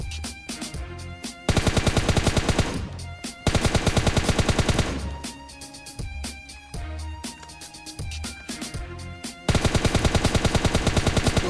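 Loud automatic gunfire from the PUBG Lite shooter game comes in repeated rapid bursts separated by short pauses, with dense rattling volleys, no talk over it.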